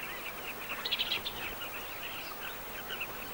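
A colony of carmine bee-eaters near the banks of the Zambezi calls in the hot dry season, thin high chirps and trills scattered over a steady soft background, moderately distant and fairly quiet.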